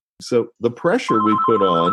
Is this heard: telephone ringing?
yes